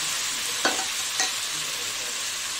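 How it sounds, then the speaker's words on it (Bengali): Spice paste and ground spices sautéing in a pan for curry leaf chicken give a steady, close sizzle, broken by two brief scraping stirs, with no voices. "আমার মশলাটা কষানো হয়ে গেছে।"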